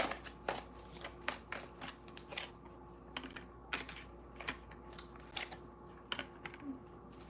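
Tarot cards are shuffled by hand close to the microphone, producing quiet, irregular riffling clicks and soft flicks spread through the stretch. No one speaks.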